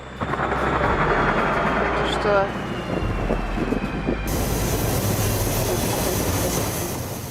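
A diesel locomotive labors under heavy load with a deep, loud rumbling roar and rough exhaust blasting, shifting partway through as the sound continues strongly to the end.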